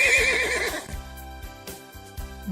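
A horse neighs loudly in a rising, wavering whinny that fades after about a second, with a few soft thuds and faint noises following in a cartoon setting.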